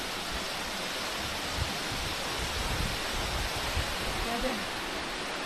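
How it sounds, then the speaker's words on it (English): Waterfall at Tiger Leaping Gorge in Yunnan, China, heard from a bridge that crosses it: a constant broadband rushing roar with no breaks, fairly close and even in loudness throughout. "You're basically crossing a bridge over this waterfall."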